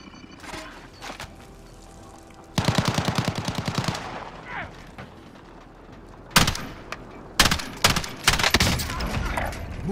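Gunfire in the video game Rebirth: a rapid automatic burst, followed later by several sharp, loud volleys of shots separated by short pauses, with quieter game sounds between.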